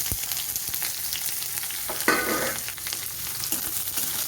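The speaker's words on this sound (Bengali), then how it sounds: "এবার পেঁয়াজটাকে আমি খুব ভালো মতন ভেজে নেব।" Onions frying in plenty of hot oil with dried chillies and cumin for aloo bharta, a steady close sizzle with a burst of louder crackle as they are stirred.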